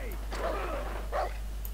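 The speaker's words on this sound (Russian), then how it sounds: "собака уже бежит" A dog in the Far Cry 3 multiplayer video game barks twice in quick succession, short yelping barks over a steady low hum, with talk mixed in.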